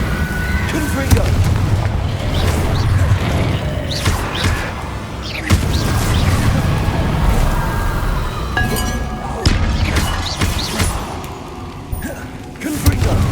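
Spell blasts from the Confringo fire spell in Hogwarts Legacy, a series of loud booming explosions mixed with clinking impacts over a dense battle din, with game voices calling out in between.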